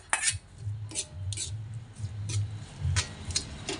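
A spoon stirring turkey berries into a pickle mix of garlic, chili, salt and tamarind, with repeated sharp clinks of metal against the container at an irregular pace over soft scraping.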